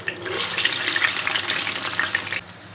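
Medu vada, a savory lentil fritter, frying in hot oil, with a steady close sizzle and crackle that runs for most of the stretch and then drops off abruptly near the end.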